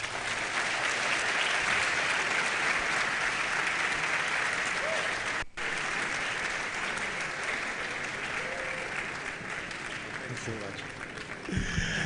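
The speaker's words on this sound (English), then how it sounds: "A round of applause for him." Loud, sustained audience applause fills a lecture hall after a College of Engineering public lecture on artificial intelligence at KNUST, a dense, even wash of clapping that runs steadily with one brief dip midway and begins to taper at the end.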